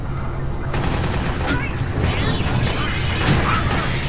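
Rapid gunfire rattles in bursts through the top-down shooter Alien Swarm, dense overlapping shots and impacts with crashes, while a player's voice talks over the din.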